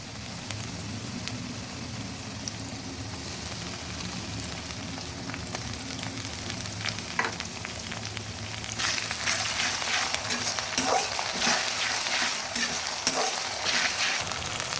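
Ginger paste sizzling and being stirred in hot oil in a frying pan while making a village-style chicken curry with papaya, a steady close crackle that grows louder and denser partway through, with no talking.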